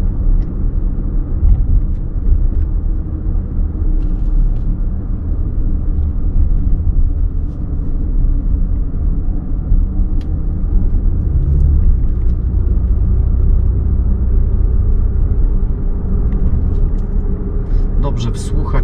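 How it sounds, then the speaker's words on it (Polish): A 2021 Lexus RX450h with a V6 hybrid powertrain cruising, its engine making a low, steady rumble beneath continuous road noise inside the cabin, with someone talking over it throughout. "Dobrze wsłuchać się w ten pomruk V6"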